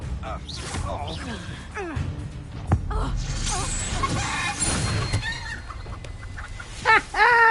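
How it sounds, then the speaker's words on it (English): A chicken clucking and squawking in Hogwarts Legacy after a transformation spell turns a man into a fowl, loud and close, with agitated calls mixed among game dialogue and voices. "Turned him into a chicken."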